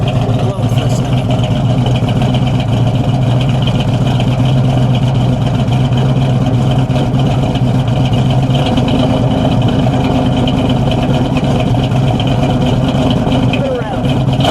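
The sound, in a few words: 1970 Plymouth Cuda 426 Hemi engine idling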